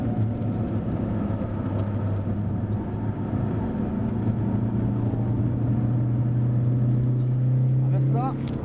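Car engine heard from inside as it works through a bend, a steady droning tone that dips briefly and then holds and rises as it pulls away, with people talking over it.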